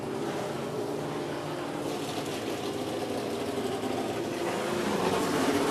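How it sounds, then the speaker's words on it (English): A NASCAR Nationwide Series race car at Atlanta Motor Speedway starts up and idles with a low, steady engine drone, swelling slightly toward the end, with no talk over it. "You hear the engine starting up, the excitement starting to build."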